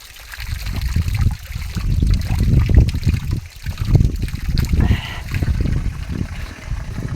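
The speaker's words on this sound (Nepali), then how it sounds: "पुरै मूल फुटेर, उहाँबाट मूल फुटेर पानी आउँछ" Cold spring water spills from a natural source in a village, a steady close trickle and gurgle with uneven surges, heard alone without voices.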